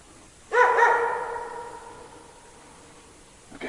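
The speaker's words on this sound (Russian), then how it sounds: "Жестко начал лаять и ушел." A single loud, sharp dog bark rings out and trails off into a drawn-out tail, with faint background noise afterward.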